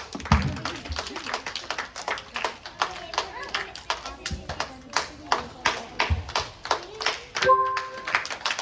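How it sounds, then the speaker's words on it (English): Schoolchildren at a children's day celebration clap in a steady, rhythmic run of sharp hand claps, fairly close, with a voice talking over them. "Clap for Dinesh."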